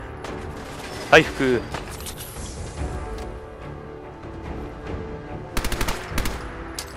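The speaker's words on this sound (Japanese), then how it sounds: "ドンパチだ。" Shootout gunfire in Fallout 4, bursts of automatic and single shots with a sharp close blast early on, then scattered bursts and a rapid volley near the end, mixed with game speech and a player's voice.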